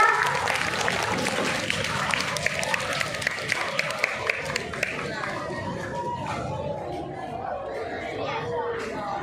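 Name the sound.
audience applause welcoming the speaker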